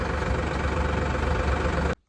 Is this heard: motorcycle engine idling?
yes